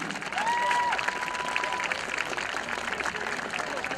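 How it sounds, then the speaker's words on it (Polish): Crowd applause and cheering at an American football game between the Lowlanders Białystok and Warsaw Sharks, a steady broadband wash of clapping from the stands lasting throughout, with a commentator's voice running over it. "Wielkie, wielkie brawa, Łukasz Świadkowski"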